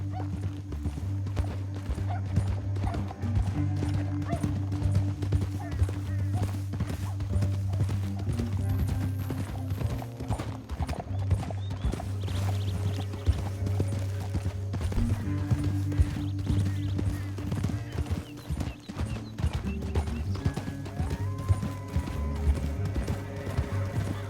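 Rapid, continuous hoofbeats of several horses galloping in the video game Red Dead Redemption 2, steady and loud for a long stretch, with a low droning background beneath.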